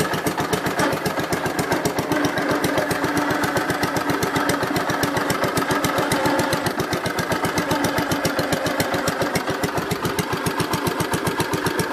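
The engine of a Gravely 566 tractor runs steadily at close range with a rapid, even pulsing chug that holds constant throughout, loud and alone.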